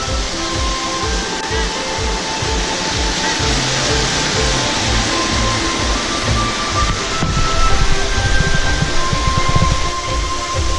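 Tara Falls waterfall in Bolinao roars as a loud, steady broadband rush of falling water, constant and close throughout with no pauses.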